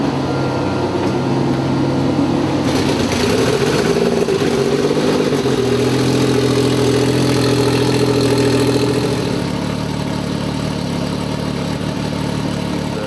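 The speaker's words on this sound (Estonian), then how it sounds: "Nagu iga hommiku me paneme auto käima, proovime ära, kuidas on õlirõhud, kuidas on siis silindrite töö" A drag racing car engine runs during a morning start-up check of oil pressure and cylinders, loud and close, settling into a rough, throbbing idle whose pitch shifts as it warms, with no talking.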